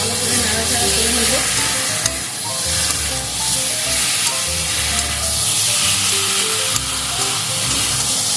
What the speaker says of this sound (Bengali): চামচ চিনি, ভালো করে নাড়াচাড়া করে নেব।